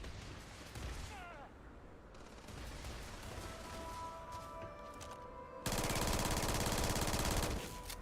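Gunfire in the sci-fi video game Starfield crackles through a dense, continuous game soundscape, with a sustained burst of rapid automatic fire swelling loud near the end.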